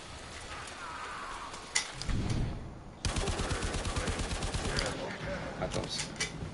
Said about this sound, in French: Ouvrez le feu avec ce fusil